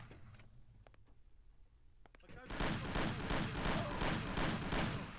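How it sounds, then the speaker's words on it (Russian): Rapid bursts of gunfire from the Mafia game's Paulie's Story mod erupt after a quiet stretch with a few faint clicks, then a loud sustained rattle of repeated shots in quick rhythm, like a machine gun. "Ладно, слушаем на выстрелы,"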